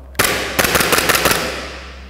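Semi-automatic shots from an airsoft Glock R18 gas pistol: a sharp single crack followed by a quick run of about six rapid, separate pops, close and loud, with no talking.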